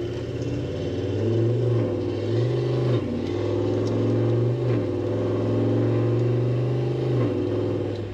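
A Toyota 79 Series with an 8-speed conversion accelerates hard, engine drone climbing in pitch and dropping back at each upshift, several gear changes in a row, heard steadily from inside the vehicle.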